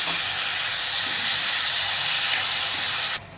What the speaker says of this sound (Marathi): हे मी फास्ट गॅसवर परतून घेते.